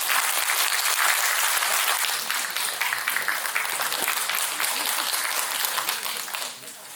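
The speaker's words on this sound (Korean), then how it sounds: "힘찬 박수 부탁드리겠습니다." Loud, dense applause from a crowd at a redevelopment association's general assembly, sustained clapping that fades near the end, with no talk over it.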